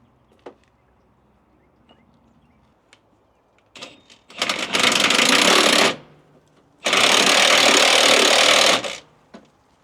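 A power tool drives bolts while a half fender is fitted to a Kenworth T680 truck. Two loud, close bursts of buzzing, hammering rattle, each lasting about two seconds, follow a few faint clicks and knocks.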